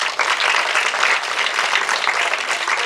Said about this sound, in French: Alors applaudissez-vous.